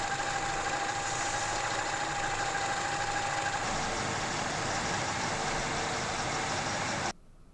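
A Peugeot 207 with the 1.4 KFU petrol engine idles steadily after an oil and filter change, a constant close hum that cuts off abruptly near the end.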